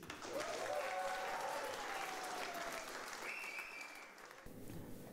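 Comedy club audience applauding as a comedian is introduced, sustained dense clapping heard faintly and at a distance, with whoops or voices rising above it partway through.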